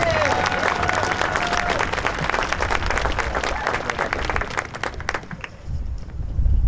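Audience applause at a Veterans Day ceremony in Belleville, Illinois, honoring three essay winners: a dense, steady wash of many hands clapping close by that thins out and tapers near the end.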